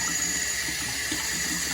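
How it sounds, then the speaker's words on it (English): A pet water fountain runs, water trickling and splashing steadily nearby under a soft, constant hum, with no talking. "I like to drink from the fountain."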